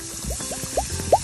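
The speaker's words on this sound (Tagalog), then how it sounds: "Pag ganito na ang consistency, lalagay na natin siya ng tubig." Water trickles into a flour and oil base for a vegetarian gravy, giving a few rising liquid gurgles and drips that grow louder over a soft background hiss.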